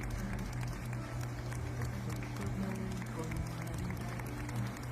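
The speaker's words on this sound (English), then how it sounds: "I'm pretty much sure that they are clapping, you know, because they are saluting" Scattered clapping from many people saluting frontline doctors and nurses, a steady dense patter over low hum and murmuring voices, moderately distant.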